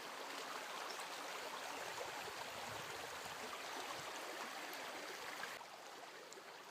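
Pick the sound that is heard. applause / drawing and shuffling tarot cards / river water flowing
river water flowing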